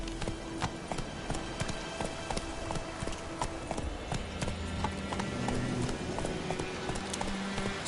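Roach the horse galloping in The Witcher video game, hooves clip-clopping in a quick, steady rhythm close by, with faint game ambience and a brief soft snort.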